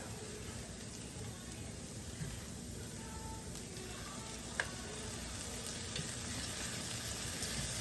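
Three cloves of minced garlic sizzle steadily in a pan while being stirred for Southern smothered pork chops, a continuous close frying hiss with faint scraping and a single sharp tap near the middle.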